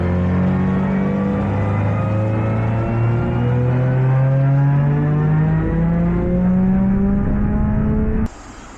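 A Subaru STi's engine runs on E85 fuel and revs up steadily with a strong harmonic drone, climbing in pitch over about eight seconds. It is loud and close, with no talk, and then cuts off abruptly near the end.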